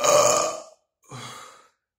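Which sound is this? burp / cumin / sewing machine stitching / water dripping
burp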